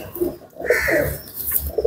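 Close, soft Salara Teddy pigeon coos, a few rolling throaty calls in quick succession with faint rustling around them.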